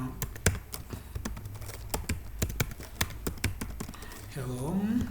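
Keys clatter in quick, uneven bursts of clicks on a computer keyboard while someone types code, close and fairly crisp; a voice begins speaking near the end.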